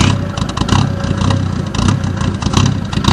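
A 1990 Mercedes-Benz 300D 2.5 diesel smokes on idle as it runs close by, giving a rough, loud, rumbling chug with uneven pulses and slight surges throughout.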